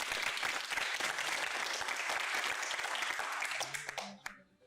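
A studio audience at an entertainment show claps in a dense, loud burst of applause that holds steady for several seconds, then thins into a few scattered claps and fades out.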